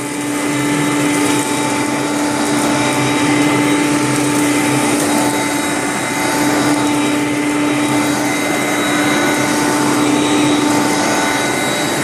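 A Hoover Conquest vacuum cleaner runs steadily throughout, with a loud continuous motor whine and airflow roar and faint tonal hum, close by and alone.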